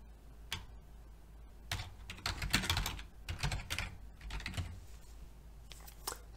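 Keys tapping on a computer keyboard while a page title is entered, a quiet, close, irregular patter of clicks in short bursts with brief pauses between them.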